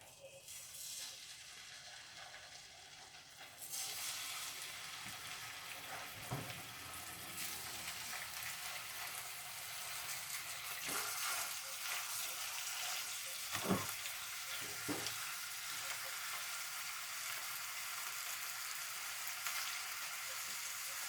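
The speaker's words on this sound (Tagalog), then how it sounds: "now the oil is hot. I'm just gonna put this chicken" Chicken pieces sizzling in hot oil in a pan, a steady bright crackling hiss that swells once the meat goes in, with occasional clatters of handling over the constant fry.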